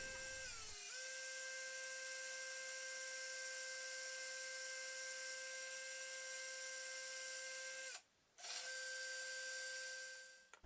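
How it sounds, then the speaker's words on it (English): A high-pitched rotary drill whines steadily for several seconds while drilling holes into a wooden fishing lure, briefly stops, then starts again and runs on, close and fairly loud with no talk. "I'm just going to drill some holes for those screw eyes"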